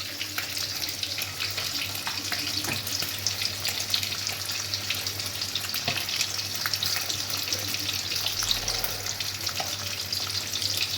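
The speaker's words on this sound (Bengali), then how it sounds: "ডিমটা একটু আমি খুন্তি দিয়ে ফাটিয়ে ফাটিয়ে দিচ্ছি" Eggs fry in a pan with turmeric and salt while a metal spatula breaks them up, a steady bright sizzle running throughout with faint scraping and clicking, no one speaking.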